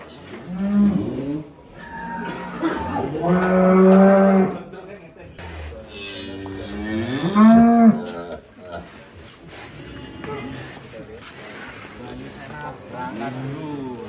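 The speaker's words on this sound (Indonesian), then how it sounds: "Bayu Sena, sapi juara kontes di kelas non poil" Prize-winning contest cattle, giant bulls, low and mooing loudly while being loaded onto a truck, with several drawn-out calls over a steady engine hum and people talking nearby.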